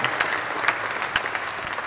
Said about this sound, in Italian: facciamo un applauso a Caterina.